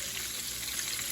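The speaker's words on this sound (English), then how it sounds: "we frying the bull balls" Bull testicles fry in hot oil with a steady, dense sizzle and crackle. The sound is close and moderately quiet, with no talking.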